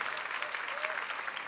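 Applause fills a Portuguese-language evangelical church service, dense steady clapping from a congregation with a faint voice rising briefly beneath it.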